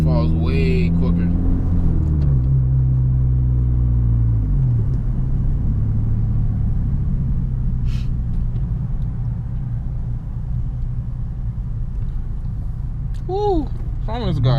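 A car tuned with Ktuner drives along with its engine droning steadily, loud and close, as revs fall after a shift and then settle into a constant rumble.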